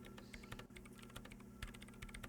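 Quick irregular clicks of someone typing on a computer keyboard in the video game Disco Elysium, faint and close with a soft machine hum beneath, no voices.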